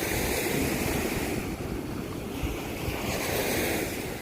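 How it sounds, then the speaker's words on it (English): Strong wind on a Lake Erie beach buffets the microphone with a constant roar, blended with the wash of surf breaking nearby. "It is super windy here."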